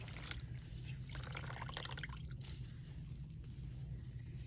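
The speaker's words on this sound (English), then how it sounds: "I'm gonna rinse quickly." A washcloth being quickly rinsed during peri care: a faint, soft trickle and slosh of water, low and steady, with no talking.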